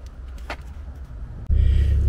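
A Chevy Impala being entered, with quiet shuffling and a brief knock before a door thumps shut near 1.5 seconds, followed by a steady low engine or cabin rumble.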